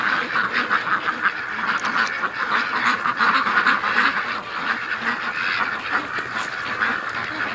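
A dense chorus of ducks quacks continuously close by, many overlapping calls in a busy, noisy flock.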